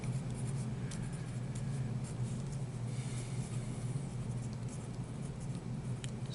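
Chalk or a marker writes on a board in a classroom during a maths lesson on real numbers. The scratchy strokes are faint and intermittent over a steady low room hum.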